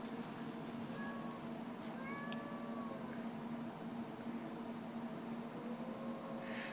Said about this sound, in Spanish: se está peleando con otro gato